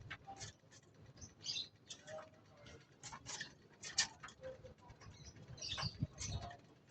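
Pigeons at a loft being fed oregano, faint soft chirps and cooing with scattered ticking pecks and light wing flutters, quiet and close.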